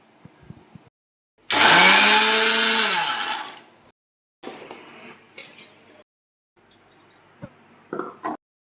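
A mixer grinder whirs loudly for about two seconds, its pitch winding down, followed by clattering and short bursts of scraping and knocking.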